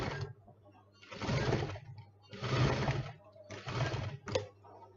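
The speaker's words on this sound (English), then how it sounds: "Then you're going to go on ahead and give it a straight stitch." A sewing machine runs a straight stitch on a lined zipper pouch in several short bursts of rapid mechanical whirring separated by brief pauses, close and fairly quiet.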